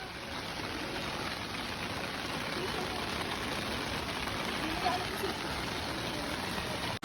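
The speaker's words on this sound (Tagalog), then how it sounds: "sobrang lakas talaga ng ulan" Heavy rain in Sapa, Vietnam, a dense, steady hiss of downpour holding evenly throughout with no voices, cut off abruptly at the end.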